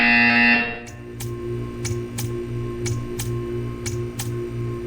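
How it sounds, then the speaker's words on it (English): A short electronic buzzer in the video game Portal 2 pulses repeatedly in a steady rhythm, about eight evenly spaced beeps over a low humming background. "You will hear a buzzer. When you hear the buzzer, stare at the art."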